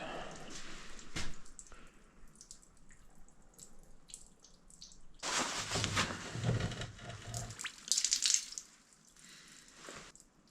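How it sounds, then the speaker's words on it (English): Liquid drains and trickles from a broken-down Kirovets tractor, a faint splashing and dripping stream that swells into louder gushes midway, heard close in a quiet setting. "It's like draining oil or something."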